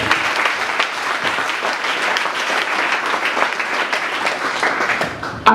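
A church congregation at a worship service bursts into sustained, dense applause for the Lord, a loud, even wash of many clapping hands that fills the room throughout, with a few voices faint beneath it.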